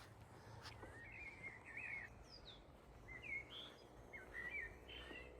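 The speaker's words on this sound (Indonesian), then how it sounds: "Kedengeran kan suara burungnya, teman-teman?" Songbirds call around a Swedish village, faint thin chirps and short warbling phrases repeating at intervals over a quiet outdoor background.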